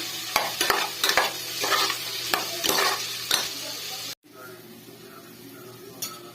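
Vegetables seasoned with salt and turmeric get stirred in a pan for pav bhaji, with quick rhythmic scraping and clinks of a spoon over a faint sizzle, close and busy, then a sudden stop leaving quiet room tone.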